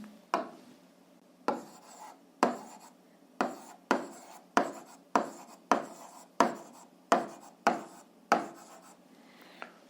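A pen or chalk writes physics formulas by hand in quick, regular strokes, each a short scratch followed by a brief tail. About fourteen strokes come in steady rhythm, close and fairly quiet, with no talk.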